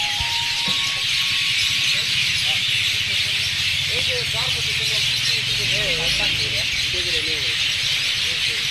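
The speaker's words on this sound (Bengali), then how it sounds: "আমার পিছনের এই গাছগুলোতে কিন্তু পাখির কিচিরমিচির শব্দ শুনতে পাচ্ছি" Birds chirp in village trees at dusk beside the Padma river, with scattered calls over steady broadband noise and a low hum, and a person talks over them.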